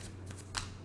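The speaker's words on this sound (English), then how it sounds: "I'm going to shuffle as I'm telling the story" Tarot cards are shuffled by hand in quick, soft riffling bursts with a sharper flick near the middle, heard faintly and up close over a low steady hum.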